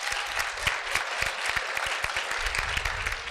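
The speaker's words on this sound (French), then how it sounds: "Oui, on peut applaudir." An audience claps steadily, a dense patter of many hands throughout, fairly distant and even.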